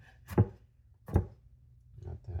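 Knife chopping ingredients into very small chunks on a board for a low-fat chicken salad, two distinct close thuds followed by a couple of softer cuts.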